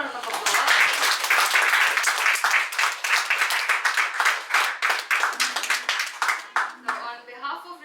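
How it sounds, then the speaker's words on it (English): An audience applauds at a music showcase after a performance, dense clapping that holds strong and then thins out toward the end. "So let's give it another round of applause"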